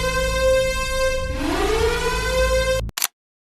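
A loud, steady air raid siren wail with strong harmonics and a rising tone, continuing for about three seconds before cutting off abruptly.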